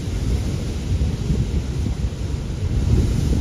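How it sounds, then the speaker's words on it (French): Strong wind buffets the microphone on board the Costa Smeralda cruise ship with a continuous low, rushing roar, moderately loud and heard alone with no talk. "Quand je vous dis qu'il y a beaucoup de vent."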